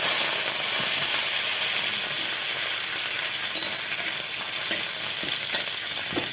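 Curry leaves dropped into hot oil in a home kitchen, a bright, steady sizzle crackling continuously and close, with faint stirring clicks and no talking.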